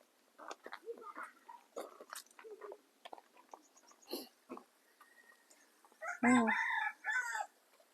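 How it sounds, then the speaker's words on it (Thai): Small bantam chickens and roosters at a Thai forest temple, with crowing and clucking calls scattered throughout and a loud close crow near the end. "ไก่ตัวเล็กๆอะ่ะ เหมือนไก่แจ้"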